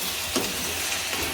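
Spices sizzle as a tempering is fried in hot oil for a vegetable pulao; a steady hiss of frying carries through with a faint stir or clink partway through.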